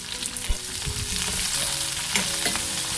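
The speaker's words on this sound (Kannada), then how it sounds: "ಮೀಡಿಯಮ್ ಫ್ಲೇಮಲ್ಲಿ ಇಟ್ಕೊಂಡು ಈರುಳ್ಳಿ ಸ್ವಲ್ಪ ಬೇಯಿಸ್ಕೊಳ್ಳೋಣ" Onions frying in a pan with dried chillies over a medium flame, a steady close sizzle with occasional stirring knocks of the spoon against the pan, no voices.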